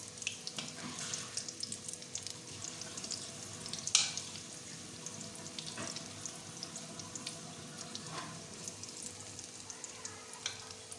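Pakoras sizzle and bubble in hot oil with a steady crackling hiss, broken by a few brief clinks of utensils, close and moderately quiet with no talking.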